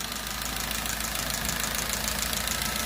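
A Chevrolet Spark engine, brought in on a tow truck from a roadside service, runs at a steady idle just after starting, with an even, continuous hum and a faint knocking rhythm and no voices.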